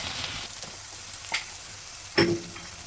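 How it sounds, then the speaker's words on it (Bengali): Dried chhela-fish shutki cooked with boitta greens sizzles steadily in a hot pan, with a few sharper scraping knocks as a wooden stick stirs the mixture. "কাটি দিয়ে লাড়াচাড়া করতে হয় নাহলে দলা বেঁধে যা"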